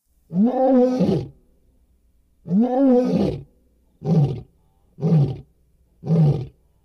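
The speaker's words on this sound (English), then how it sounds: "the researchers played an audio recording of an unfamiliar lion's roar" An unfamiliar lion's roar played back as a recording: two long, deep roars followed by three shorter grunting roars, loud, evenly spaced, with silence between them.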